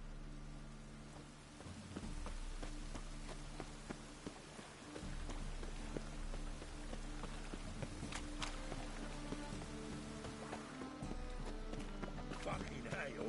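A horse's hooves clip-clop steadily on a road in The Witcher 3, with rain pattering throughout, a low music bed underneath and someone talking over part of it.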